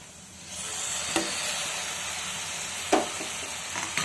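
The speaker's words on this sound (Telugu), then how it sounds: "ఇప్పుడు మనం ముందుగా కట్ చేసుకున్న టమాటా వేసుకుందాం" Chopped tomatoes go into a pan of frying prawns for gongura prawns, and a steady, fairly loud sizzle and hiss follows, broken by a few sharp clicks of a spoon or ladle.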